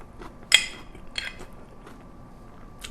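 A person chews a mouthful of mu saengchae, a Korean radish salad, in a quiet room. Two brief, close crunches are followed by fainter soft chewing. No one speaks.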